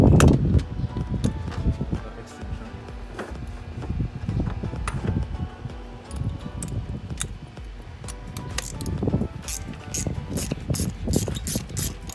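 A ratchet with a 5/8 socket loosening a spark plug on a 2017 Hyundai Elantra, giving close, busy metallic clicking in quick bursts with brief pauses between strokes.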